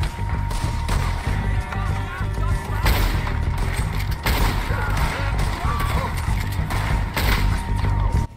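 Gunfire in the Western video game Red Dead Redemption, with repeated thudding shots mixed among horse hoofbeats and dense game noise, under a voice talking.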